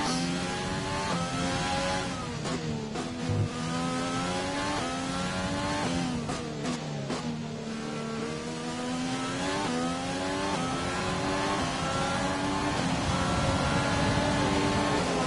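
F1 race cars in the pit lane of the F1 2020 video game at Abu Dhabi, steady loud high-pitched engine whine with rising and falling revs throughout, several cars overlapping without any voices.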